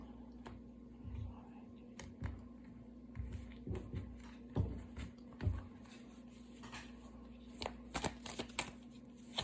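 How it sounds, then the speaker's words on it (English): A tarot card deck is shuffled and cut with quiet riffles and soft slaps in irregular bursts, close and faint against a low steady hum, with no talk over it. "All right, cut the deck."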